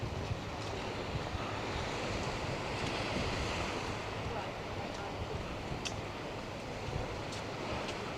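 Surf rolls steadily onto Boulder Beach at Playa Las Galgas near Playa Paraíso, a constant, even wash of waves mixed with wind buffeting the microphone, with no distinct break in the roar.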